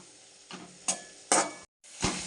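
A spoon stirs garlic, tomato and large onion frying in a pan, giving four or five quick scraping strokes over a soft sizzle, close and fairly quiet, with a brief gap between strokes.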